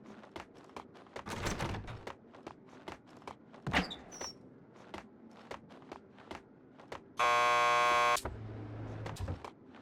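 A door buzzer in the video game Max Payne 2 sounds one loud, steady electronic buzz for about a second, heard amid soft footsteps and scattered game noises.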